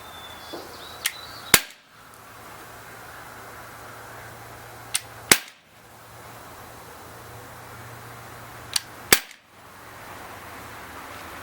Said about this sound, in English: We're going to fire 8 rounds again through the chronograph